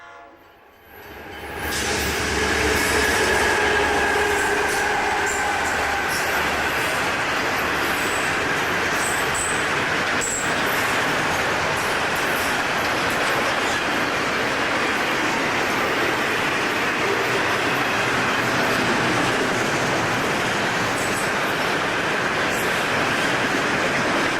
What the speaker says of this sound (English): Southbound number 107 drifts through Bunnell, Florida, 32 miles south of St. Augustine at 6:23 p.m.